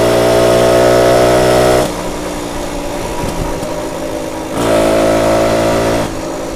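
A 1967 BSA Bantam D10 175 motorcycle engine revs hard and close, a loud buzzing two-stroke whine that drops back to idle, then revs up again before settling.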